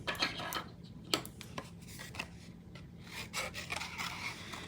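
Scissors snip out paper pieces in a series of short, crisp cuts with irregular spacing and faint rustling between them, heard up close and quiet.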